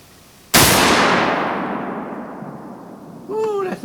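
A hunting rifle fires one sharp, loud shot at outdoor target practice. The blast rings out and decays slowly, and a voice speaks briefly just afterward.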